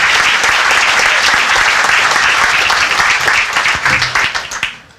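An audience at a 2015 fundraising auction gives a big round of applause, dense clapping filling the room steadily before thinning and fading away in the last second.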